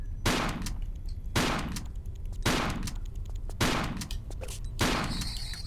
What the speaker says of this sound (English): Let's swap to the shotgun. Because we'll have another scorpion.